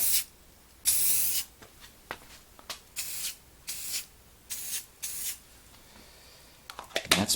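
Spray paint is applied to a custom 1/64 scale diecast NASCAR car for a two-tone paint job, heard as a series of short, close hissing bursts separated by quiet pauses, with a final cluster of quick sprays.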